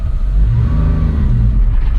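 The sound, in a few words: Suzuki kei truck with F6A engine accelerating in third gear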